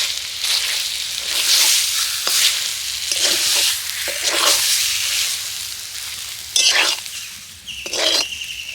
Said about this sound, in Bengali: ডোটাকে আমি কিন্তু খুব ভালো করে কড়াইতে একটু নেড়ে চেড়ে নিয়েছি